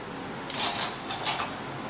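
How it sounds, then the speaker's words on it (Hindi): Dishes, pots and pans being set out in a home kitchen give a few soft clinks and rattles, quiet and close, over a low room hush. "बर्तन सेट करने"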